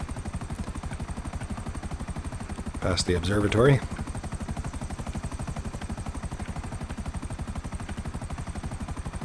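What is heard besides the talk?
helicopter flying in the video game GTA 5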